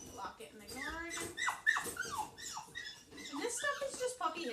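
A young puppy shut in a crate whines and whimpers in rising, high-pitched cries, close by, with faint scuffling as she paws at the crate door.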